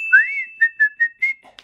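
A single person whistles the melody of a song as part of a song word-association game: a short, clear, close tune of a few sliding and held notes, alone with no talk.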